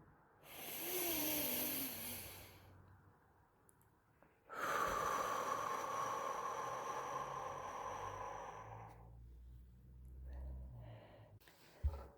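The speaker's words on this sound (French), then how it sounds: "On inspire par le nez et on expire par la bouche." Slow, deliberate breaths are drawn in through the nose and let out through the mouth, two long airy exhalations close to the microphone with a quiet pause between them.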